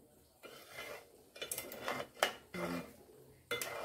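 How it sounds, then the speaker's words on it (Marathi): A spoon stirs thickening basundi made from buffalo milk in a pot, giving irregular scraping and clinking strokes against the metal, fairly close and moderately quiet. "ढवळत राहायची अशी बासुंदी।"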